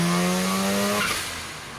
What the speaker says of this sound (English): The engine, I mean, what is there to say? Rotaries, man